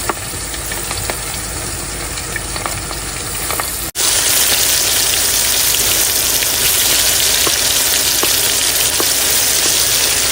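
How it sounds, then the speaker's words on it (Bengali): Fish pieces rubbed with salt and turmeric fry in hot oil during outdoor riverside cooking. A steady crackling sizzle jumps sharply louder partway through and stays dense and close. "বন্ধুরা তেল গরম হয়েছে, মাছে নুন হলুদ মাখানো হয়েছে, এবার ভেজে নেবো।"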